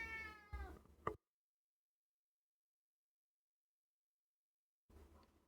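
A hungry house cat yowls loudly in the background, a few drawn-out, wavering meows bunched together, then silence before more faint household noise returns.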